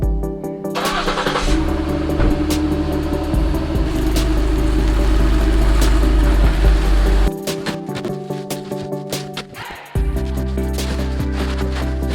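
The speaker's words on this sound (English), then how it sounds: "I'm gonna get Jackie's car moved out of the garage too, just so it's a little bit easier." A car's engine starts and idles in a garage, running loud and steady with a deep rumble, briefly dropping off near the end before starting up again.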